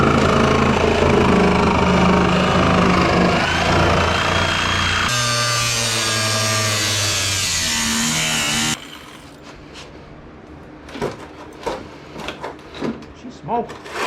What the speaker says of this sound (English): I'm gonna go with the cut wheel now and just go along this back side